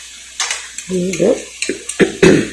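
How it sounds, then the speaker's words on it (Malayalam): Potatoes sautéed in a pan for Bengali aloo dum, scattered sizzling and clinks of a spoon against the pan, brief and close, with a voice speaking over part of it. "നന്നായിട്ട് വഴറ്റി"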